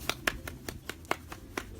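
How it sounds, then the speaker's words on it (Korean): A few sharp, sparse hand claps at a small home gathering, about seven separated slaps across two seconds, close and fairly quiet with no talk over them. "박수."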